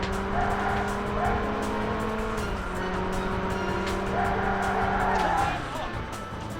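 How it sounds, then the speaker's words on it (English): Racing car in the Xbox game Burnout drifts out of line, its engine roaring at a steady, sustained pitch with tire squeal layered on top, then easing off near the end. "then the car starts to drift, and then you can't fucking get it back in a straight line and you just end up crashing"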